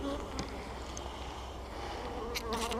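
Honey bees buzz steadily around an open hive during a frame inspection with a new Ceracell feeder, a close, continuous drone with a few brief louder passes near the end.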